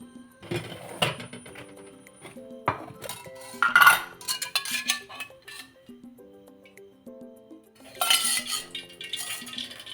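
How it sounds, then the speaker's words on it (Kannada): A metal cooking pot is set on a lit stove, with a run of clattering metallic clinks and knocks that come in bursts over a faint background, and no talking. "ನಾನು ಸ್ಟವ್ ಹಚ್ಚಿ ಪಾತ್ರೆ ಇಟ್ಟಿದ್ದೀನಿ."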